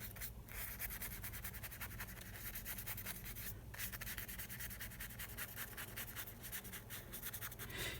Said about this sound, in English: you don't scrub too hard. This is quite a hard brush